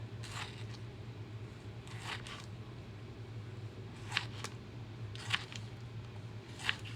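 A knife dices a tomato on a cutting board for pico de gallo, giving a handful of soft, spaced chopping thuds over a steady low kitchen hum.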